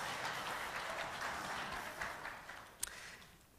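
Applause from a church congregation at a Presbyterian service, a dense wash of clapping that holds steady and then thins and fades toward the end.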